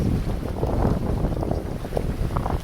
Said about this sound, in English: It's a little rolly out here, but it's beautiful. Nice sailing.